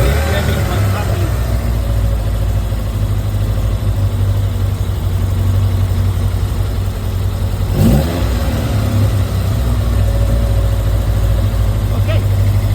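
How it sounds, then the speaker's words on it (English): A car engine with a variable valve timing controller hums at higher revs, holding a steady drone with a short rise in pitch partway through before easing off. "It's revving quite happily."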